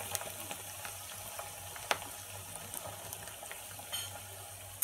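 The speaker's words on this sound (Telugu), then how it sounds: "మిగతా పీసెస్ కూడా ఫ్రై చేసుకుందాం." Bitter gourd pieces frying in oil in a pan give a faint, steady sizzle with occasional soft clicks and a louder knock, no voices present.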